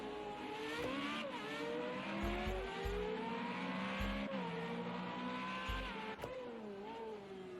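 An FR35 race car accelerating hard down the back straight at Algarve, its engine note climbing steadily through several gear changes with brief shifts, loud and sustained with a low rumbling thump underneath.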